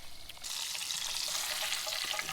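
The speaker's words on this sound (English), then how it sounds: "throw it in some breading and deep fry it" Breaded Arctic grayling fillets dropped into hot oil to deep fry, heard as a close, loud, steady bubbling sizzle that bursts in suddenly after a quiet start and continues without pause.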